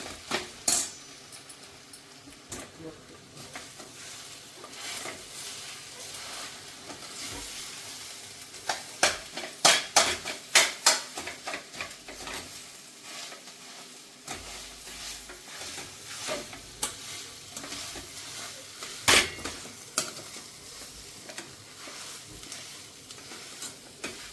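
Besan vegetable sizzles faintly in an uncovered pan while a spoon repeatedly scrapes, flips and breaks it up, producing irregular metallic clinks and knocks in bursts over a soft frying hiss, with no talking.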